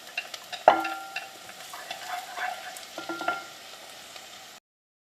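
Garlic fries in a pan with a gentle sizzle and the clink and scrape of stirring, including one sharp knock early on, up close and without any voices.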